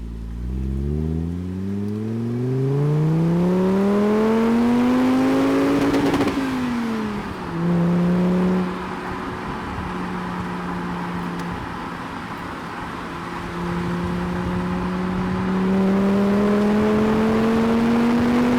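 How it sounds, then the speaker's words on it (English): A Volvo V70 engine revs hard as the car accelerates through the gears, the pitch climbing in a long sweep, dropping sharply at a shift near the middle, then rising steadily again. The engine is loud and close, with no talking. "You can just have your foot down, row through the gears the whole way, and it makes all the right noises along the way"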